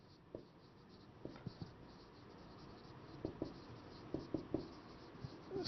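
Handwriting during an electrical engineering lecture on alternator reactance, a series of soft scratchy strokes and taps, close but faint over a low steady background hum.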